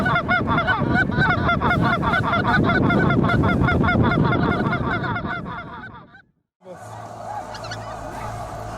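A migrating flock of wild geese in fall, many overlapping honks sounding close and loud for about six seconds, then a brief hush before fainter, scattered honking resumes.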